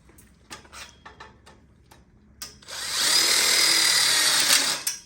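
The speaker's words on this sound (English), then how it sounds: "And then also screw in the top as well." A few short clicks and taps come first, then a power drill whirs loudly and steadily for about two seconds as it drives a screw into the top of a drop-down burner module for an outdoor kitchen.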